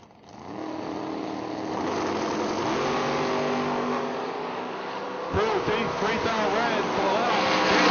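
A 1992 Camaro and a 1971 Dodge Demon at a drag strip, engines droning loudly and steadily, then both launching hard with a rising roar as they pull away, all under an announcer's voice.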